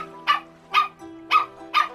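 A dog barks four times in quick succession, short sharp yips spaced evenly and fairly close, with a faint steady hum underneath.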